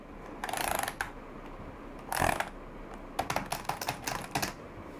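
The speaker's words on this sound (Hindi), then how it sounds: "अभी हम इसका साउंड टेस्टिंग करते हैं कीबोर्ड का साउंड कैसे आता है" Bursts of clicky typing on an HP K500F gaming keyboard, close and crisp, in quick uneven flurries separated by short pauses.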